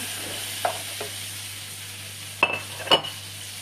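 Artichokes and toasted rice sizzle steadily in a pan for an artichoke pilaf, with a few sharp spoon scrapes and clinks against the pan near the end.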